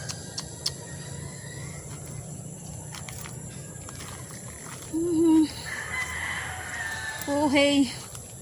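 A rooster crows twice, some distance away, over a steady outdoor background hiss.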